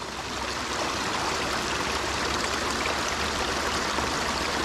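Water rushing and splashing steadily while a bottle is filled from a stream on the Appalachian Trail, a close, continuous wash of sound with no talk.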